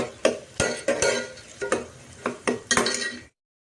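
A spoon stirs onions with turmeric in a curry pan for a cabbage tomato curry, scraping and clinking in a steady series of strokes about every third of a second, close and clear with no talk.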